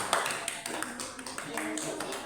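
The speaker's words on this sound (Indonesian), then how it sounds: "Tepuk tangan." Children in an elementary school classroom clap their hands together, a quick burst of overlapping claps under a teacher's voice, close and moderately loud.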